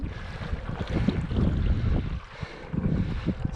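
An SUP board pushed by an electric E Fin in normal drive mode, giving a steady low water-and-motor churn with choppy splashes and wind buffeting on the mic, close and fairly loud throughout.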